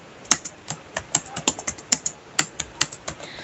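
Typing on a computer keyboard while writing a simple Python program: a steady series of about fifteen crisp, close key clicks at an even rhythm, with no voices.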